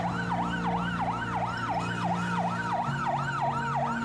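An ambulance siren wails continuously in a steady rising-and-falling cycle, loud and close, over a low engine hum, outside a Delhi hospital during the Covid crisis.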